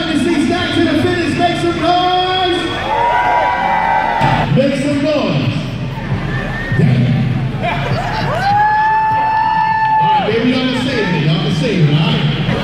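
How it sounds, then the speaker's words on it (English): A large crowd at an American Bully dog show whoops, cheers and shouts continuously at close range, loud and sustained, with voices talking and calling out over the noise throughout. "the dog that gets the bigger reaction from the crowd moves on until there's no dogs left"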